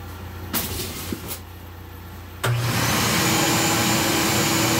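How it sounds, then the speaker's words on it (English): A shop vac vacuum cleaner switches on with a sudden loud roar partway through, after a quieter stretch with a few bumps and clunks, then runs steadily at high volume indoors during floor cleaning. "I'm using the shop vac because, let's face it, has a lot more suction."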